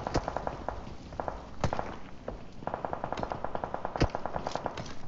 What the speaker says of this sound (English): we see firing shots nearby